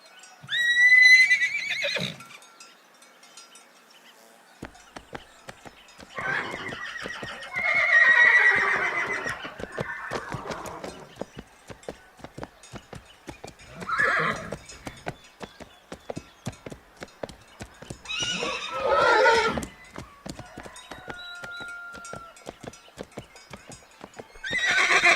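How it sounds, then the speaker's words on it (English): A horse whinnies in several loud, separate bursts while its hooves clip-clop in a steady rhythm throughout, close and clear, with no talking. "Horse."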